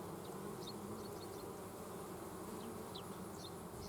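Honey bees at a hive being fed make a dense, steady buzz that fills the whole stretch, with a few individual bees whining higher as they pass close by, and no one talking.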